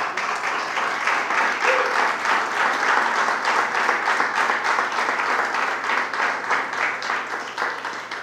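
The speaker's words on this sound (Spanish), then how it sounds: "Vamos a dar un aplauso al Señor porque Él es bueno." A church congregation claps during a sermon, producing a broad, continuous crowd of handclaps that stays steady and fairly loud for the whole stretch without any talking.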